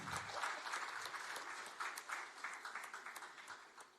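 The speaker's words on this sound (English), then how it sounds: "Ladies and gentlemen, let's please give them a warm round of applause." Audience applause for a team's presentation at a national pitch-competition grand final, a moderately quiet wash of many hands clapping, steady with slight swells and fading toward the end.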